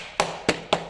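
Concealed tilt-and-turn gearing is tapped flush into the Euro groove of a uPVC window frame, giving three sharp, close knocks spaced about a quarter second apart.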